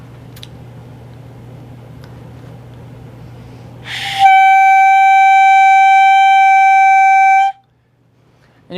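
A beginner blows a first sustained note on a clarinet, a loud, steady reedy tone held for about three seconds after a quiet hum, then cut off abruptly.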